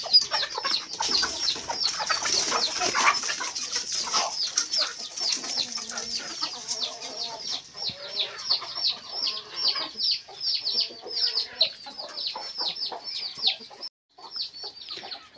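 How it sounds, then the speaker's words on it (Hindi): Chickens cluck and squawk in a busy, overlapping chorus, close by, with a steady stream of short calls throughout. "बाड़े में मुर्गे देखते हैं"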